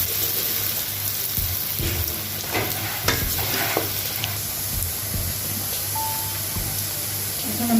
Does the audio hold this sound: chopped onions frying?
yes